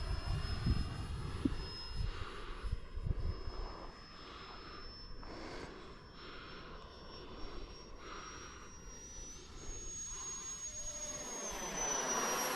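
An RC foam jet flies overhead outdoors, its thin electric whine rising and falling as it passes at a distance, with faint wind noise and no talking.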